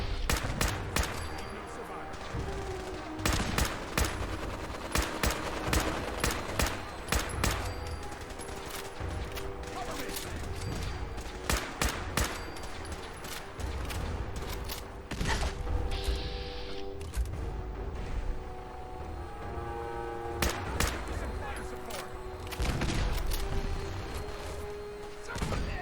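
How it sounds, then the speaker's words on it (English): Repeated bursts of automatic gunfire in the game Fallout 4, rapid sharp volleys with short pauses, plus mechanical clanks and creaks between them. "There's gunfire over here."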